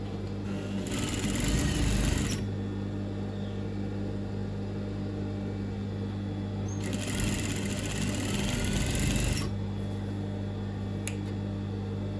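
Sewing machine stitching culottes fabric in two loud bursts of rapid mechanical whirring, each about two seconds long, separated by a quieter pause with a steady background hum.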